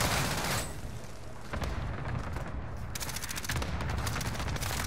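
A shotgun fires in a video game battle on Rebirth Resurgence, heard as loud, close, sharp blasts in quick succession, with a brief lull before more rapid shots.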